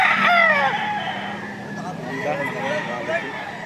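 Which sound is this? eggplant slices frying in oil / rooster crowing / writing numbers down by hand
rooster crowing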